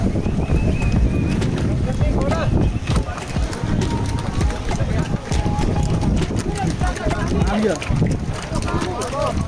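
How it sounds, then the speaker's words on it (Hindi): Hooves clip-clop steadily on a mountain trail as several horses pass during the Amarnath Yatra pilgrimage, mixed with wind and rushing water, with people talking over it. "एक साथ बहुत सारे घोड़े आ जाते हैं।"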